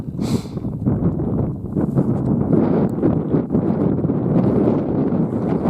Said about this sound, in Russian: Лес гудит, тайга вон. Тайга, конечно. Такой шум от тайги там. Ветрище.